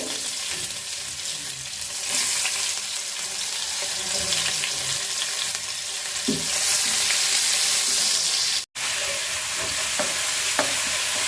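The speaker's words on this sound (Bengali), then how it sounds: "তো এই যে পেঁয়াজ দিয়ে দিতেছি" Onions fry in the oil left from frying hilsa fish for a taro and hilsa curry, a loud, steady sizzle with stirring scrapes and a brief dropout near the end; no talking.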